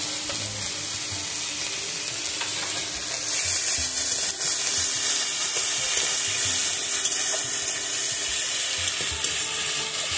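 Onion paste and ginger-garlic paste fry in hot oil in a pan after browned potatoes, a steady loud sizzle that swells midway and carries on with no talking.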